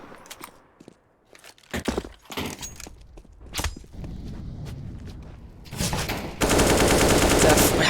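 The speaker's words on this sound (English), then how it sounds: "there's an auto sniper coming in from Dobo" Auto sniper rifle fire in Counter-Strike on the dust2 map comes as scattered sharp shots that grow busier, ending in a loud, continuous rapid burst of gunfire.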